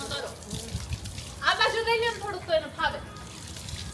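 Water splashes and pours while Zeebo the dog gets a bath on a rooftop terrace. Sloshing and trickling run throughout, under people talking.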